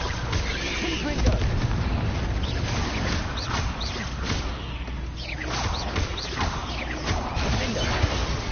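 Fire spell blasts in the Hogwarts Legacy game, a fight against spiders: dense rumbling booms and bursts over a constant roaring mix of battle effects, loud and cluttered from start to finish.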